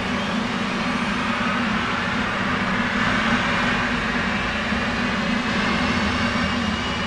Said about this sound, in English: Starting right engine.